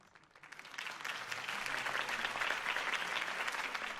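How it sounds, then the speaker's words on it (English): Crowd applause at a political campaign rally in Batman: The Telltale Series swells from quiet claps into sustained, fairly distant clapping lasting several seconds, with no talk over it. "If only Mr. Wayne, my campaign's largest backer, could have heard that applause"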